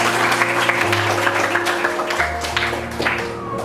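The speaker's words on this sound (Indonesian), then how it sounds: "kasih tepuk tangan dong untuk teman." Classmates clap for a student in a classroom, a continuous patter of many hands under a steady background hum, moderately loud and without clear speech.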